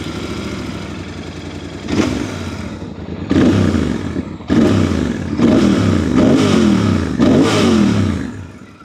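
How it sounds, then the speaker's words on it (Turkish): A Royal Enfield Interceptor 650 twin with its stock exhaust runs close by, giving a deep, full idle broken by five or six sharp throttle blips that rise and fall in quick succession. "Ama gelin orijinal egzoz sesini de dinleteyim size."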